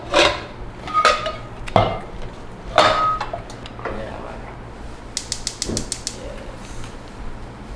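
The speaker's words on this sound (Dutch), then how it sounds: "Ik ga dan alvast het pot op vuur zetten" A pot is set down on a stovetop with several clanking metal knocks and scrapes, followed by a quick burst of light rattling, all close and fairly loud with no talk.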